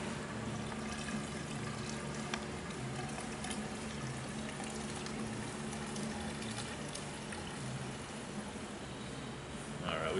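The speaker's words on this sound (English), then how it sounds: "we should start getting a little bit better water flow there" Water flows steadily out of a stormwater gutter filter, a continuous rushing splash that holds an even level throughout without a break.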